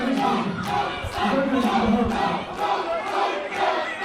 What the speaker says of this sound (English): The crowd is cheering him on, but the Pope is injured.